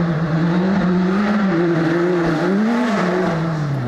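An off-road rally car engine drones loudly and steadily at the Rallye des Cimes, its pitch rising and dipping slightly as it holds a sustained high rev.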